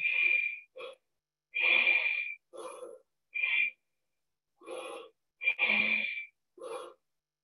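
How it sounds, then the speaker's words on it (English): Deep, slow breaths during a guided breathing exercise, several distinct inhales and exhales heard close and alone, separated by brief silent pauses. "really want to hear that breath"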